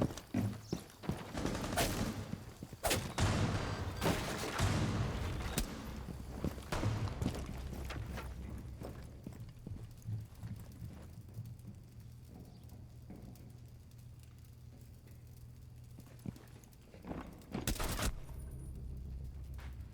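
Gunfire exchange in Rainbow Six Siege, with dense bursts of shots close up in the first several seconds, then quieter scattered activity and a sharp loud burst near the end.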